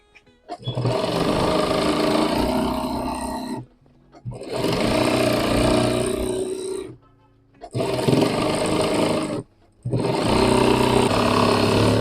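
A sewing machine stitching the edge of a fabric pouch runs in four loud, steady bursts of whirring, each lasting a few seconds and separated by short pauses, close by with no talking.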